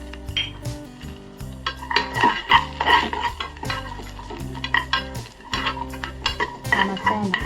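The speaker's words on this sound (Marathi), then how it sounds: "त्याच्यामध्ये हे आलं लसूण आणि हिरव्या मिरच्या दोन आहे आणि चिंच त्याच्यामध्ये मी परतून घेणार आहे" Ginger, garlic, two green chillies and tamarind sautéed together in a pan for neer chutney, giving loud, busy stirring scrapes and clinks of utensil on metal with a faint sizzle underneath, over a steady tonal hum and without speech.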